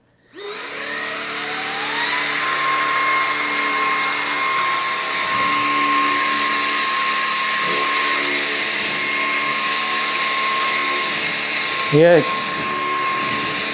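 A Levoit 300 cordless stick vacuum whirs up and runs steadily at a loud, high-pitched whine, a brief clunk near the end as debris is sucked up, one short spoken word over it.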